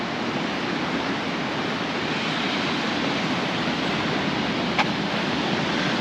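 Big waves on a beach at Paguera, Mallorca: a broad, continuous roar of surf, steady and fairly close, with no voices.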